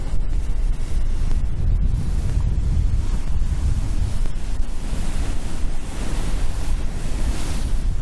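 Waves crash on a beach at high tide at Hunstanton, loud and close, with continuous surf roar and heavy wind buffeting the microphone.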